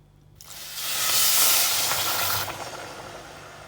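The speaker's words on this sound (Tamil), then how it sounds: "இப்போ சர்க்கரை நல்லா கரையிற அளவுக்கு இது நல்லா கொதிக்கட்டும்." Sugar and water hit a heated pan for syrup, bursting into a loud steamy hiss that swells, holds for about two seconds, then fades to a quieter bubbling sizzle, with no talking.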